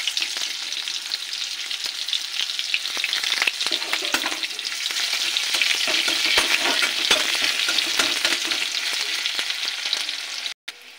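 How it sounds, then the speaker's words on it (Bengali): Chopped onions frying in oil with bay leaf and Bengali five-spice, loud steady sizzling heard close up with frequent scraping stirs of a spatula in the pan, no voices over it. "পেঁয়াজটা একটু ভাজা হয়ে গেছে।"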